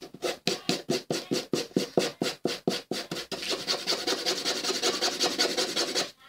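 A nail file rasps against the tip of a giant paper blending stump. It starts as quick, evenly spaced strokes, then blurs into a denser scratching run, close and clear, with no one talking.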